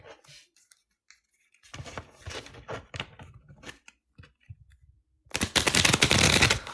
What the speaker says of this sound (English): Jennifer, I'm shuffling your cards and I'm getting ready to read you.